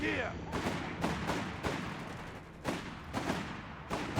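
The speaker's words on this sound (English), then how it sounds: "Section firing at the Grenadiers." Rifle and small-arms fire in Company of Heroes 3 as a British infantry section shoots at German Panzer Grenadiers, a run of sharp shots at moderate level under a steady battle din, with a commentator talking over it.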